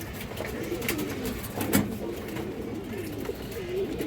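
Pigeons of old local breeds at a bird sale coo softly and continuously in low, rolling calls, close by, with faint rustling and a brief louder flutter midway.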